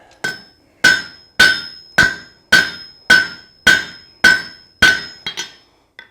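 Hammer blows on hot steel at an anvil's edge while forging a meat hook: about ten loud, evenly spaced ringing strikes, each decaying quickly, the last few lighter and more irregular.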